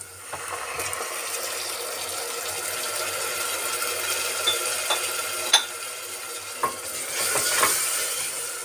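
Tomatoes added to a sizzling pan for a lobia dal sabzi and stirred: a soft steady frying hiss with scattered clinks and scrapes of a spoon against the pan, close and alone without talk.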